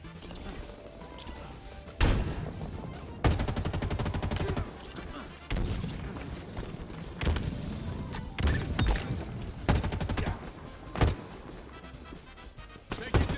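Repeated grenade blasts and bursts of gunfire erupt during a chaotic Halo Infinite multiplayer match, loud and irregular, with rapid fire between thumping explosions over a low game background.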